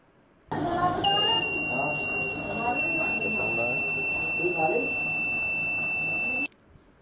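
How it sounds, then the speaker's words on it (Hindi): A rain alarm circuit emits a continuous high electronic beep for several seconds after water is poured onto its sensor, starting and stopping sharply, with a person talking underneath. "अब इस पर जैसे ही मैं पानी डालूँगा तो ये बीप का साउंड देगा"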